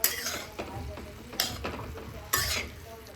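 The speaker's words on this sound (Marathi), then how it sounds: "लाल तिखट, आता हे सगळं मिक्स करूया" A spoon stirs red chili powder into a sizzling vegetable bhaji in a pan, rhythmic scraping sweeps over a steady frying hiss, close and clear, with no speech.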